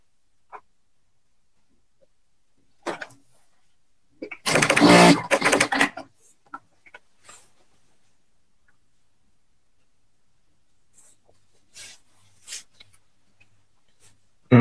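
An A2S lockstitch sewing machine runs in a short loud burst of rapid stitching with backtacking, surrounded by faint clicks, button taps and brief mechanical ticks in an otherwise quiet room.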